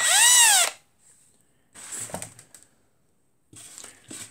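A small drill bores a hole for a diorama plant in short bursts, a high whine followed by two separate gritty grinding spells with silent gaps between them.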